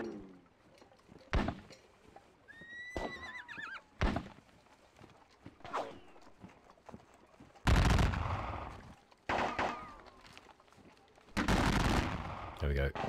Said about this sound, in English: Our cannons are starting to fire at them